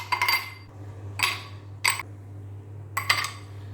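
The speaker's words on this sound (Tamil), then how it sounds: "ஒரு கிளாஸில் கொஞ்சம் ஐஸ் க்யூப்ஸ் போட்டுக்கலாம்." Ice cubes dropped one after another into a glass for iced tea, giving four bright, clinking bursts with short pauses between them, close and clear over a steady low hum.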